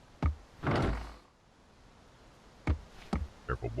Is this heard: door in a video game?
yes